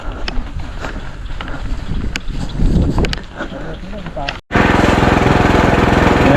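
An engine-powered sprayer drones as calamansi trees are sprayed, a rough motor buzz under talking and wind buffeting. After a brief dropout the engine comes back close and loud with an even, steady hum.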